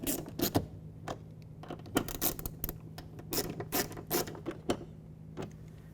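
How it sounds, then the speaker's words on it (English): A ratchet drives two 10mm bolts into the front interior door handle of a 2007-2012 Nissan Altima, giving close, loud bursts of rapid clicking separated by short pauses. "so now we're going to reinstall these 2 Phillips head or 10mm bolts."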